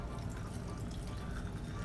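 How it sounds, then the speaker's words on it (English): Cocktail being poured into a glass with lime juice: a steady, close liquid pour running continuously without pause through the short stretch. "Look at that pour."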